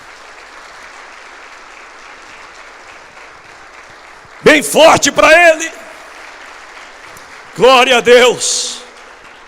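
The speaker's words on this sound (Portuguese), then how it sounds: "Você pode aplaudir o nome de Jesus?" Church congregation clapping for Jesus at a Quadrangular service in two short loud bursts, with a preacher's voice speaking between and over the applause.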